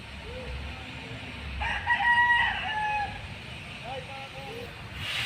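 A rooster crows once at mid-distance, rising and falling, with softer clucks and background chatter around it.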